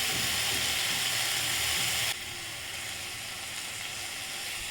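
Tomato, onion and green chilli sauté in a pan with a loud, dense sizzling hiss that drops suddenly to a quieter steady fry halfway through, with no other sounds.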